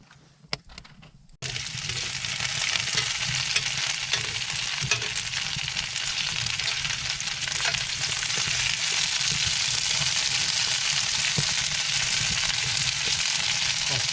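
Meat sears in a hot pan, cooked rare at two minutes a side: a loud, steady hiss that bursts in suddenly after a brief quiet moment and crackles on without pause.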